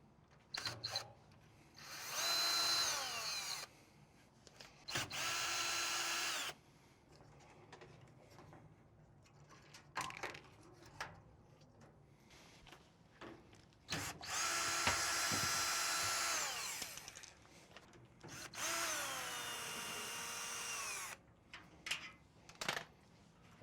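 A cordless power drill backs screws out of a Samsung front-load washer pedestal, whirring in several separate bursts of a few seconds each with quiet gaps and small clicks between them, close and fairly loud.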